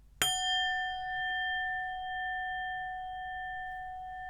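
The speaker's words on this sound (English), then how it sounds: "I'm going to chime the singing bowl." A singing bowl is struck once, giving a bright metallic strike that settles into a pure, sustained ringing tone that hangs on for several seconds with little decay.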